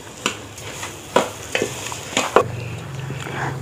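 Sugar stirred into semolina halwa in a pan: intermittent scraping strokes and soft clanks of a spoon against the pot, several distinct hits over a low sizzle, close and moderately quiet.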